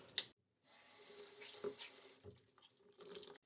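Tap water running into a sink while makeup is washed off a face, a close, continuous splashing flow with brief gaps where the water is interrupted.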